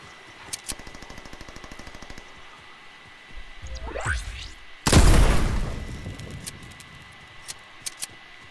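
Gunfire in a video game aimed at the player, heard as a run of rapid light shots, then a rising whoosh and a loud close blast that fades into a long rumble, followed by a few scattered faint pops.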